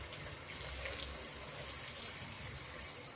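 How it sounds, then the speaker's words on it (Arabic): Boiled water poured slowly over crabs in a pot, a steady, even liquid rush that fills the whole stretch with no voices over it. "هحط بقى شويه ميه بشويه كده، اعمل بقى الشوربه بتاعتي"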